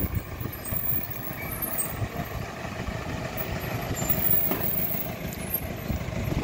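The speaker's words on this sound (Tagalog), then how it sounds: "Nakabalik na yung isang truck." A Lalamove delivery truck pulls back in, its engine rumbling steadily at moderate distance with faint reversing beeps and a hiss of air brakes, no voices over it.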